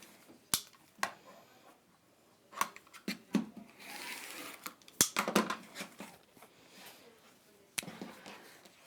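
Scissors cut a fabric panel in half, with sharp snips and rustling cloth in a scattered, irregular run, close and fairly quiet.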